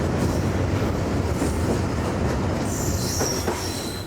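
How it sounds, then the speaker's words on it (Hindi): A train with brand-new coaches runs past on the Karachi to Khanpur line, a loud, close roar of wheels on rails with squealing and faint rhythmic clacking, steady throughout with no talk. "भाई बिल्कुल ब्रांड न्यू कोचेस के साथ ये ट्रेन जा रही है"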